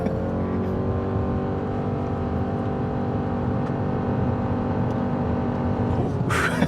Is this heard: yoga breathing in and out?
no